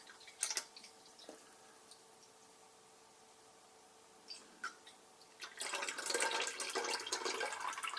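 Strained juice squeezed from peel is poured back into a mixture. A few faint drips come first, then a soft, steady trickle of liquid is heard close by with no talk.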